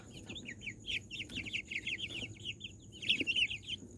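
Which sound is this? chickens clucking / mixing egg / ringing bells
chickens clucking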